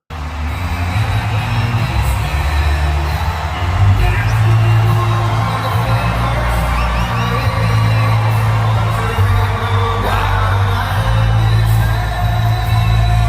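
A large rally crowd at a Trump event roars steadily and loudly throughout, with whoops, scattered yells and a few sharp bangs rising above the sustained cheering.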